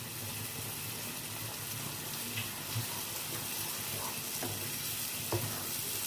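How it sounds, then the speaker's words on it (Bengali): Masala paste for katla fish sizzles in a pan with a constant low frying hiss, broken by occasional soft scrapes and taps of a spoon as it is stirred. "এবার কষাবো এটাকে যতক্ষণ না পর্যন্ত তেল বেরোচ্ছে ততক্ষণই ভালোভাবে কষিয়ে নিতে হবে মশলাটা"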